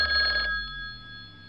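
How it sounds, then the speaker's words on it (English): Phone ringing in a Roblox game, a bright electronic trill loud for the first half second, then a fainter lingering tone over a low background hum. "Oh, Molly, her phone is ringing."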